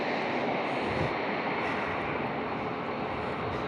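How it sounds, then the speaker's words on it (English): Alaska and United Boeing 737 airliners taking off and landing at San Diego International Airport, a steady distant jet roar rumbling continuously without breaks, no voices over it. "Alaska taking off, and then we got a United 737. Looks like landing right now."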